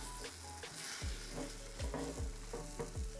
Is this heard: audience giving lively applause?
no